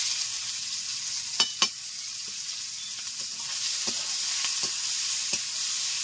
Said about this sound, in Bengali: দেখো তেল গরম হয়ে গেছে, দিয়ে দিচ্ছি কালো জিরে, 3টে পেঁয়াজ মিডিয়াম সাইজের কুচি কুচি করে কেটে নিয়েছি, দিয়ে দিলাম